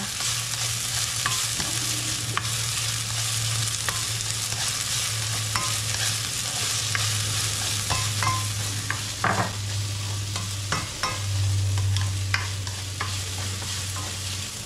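Onions sauté in a pan for pork giniling, a continuous loud sizzle with frequent stirring scrapes and a steady low hum beneath, with no talking.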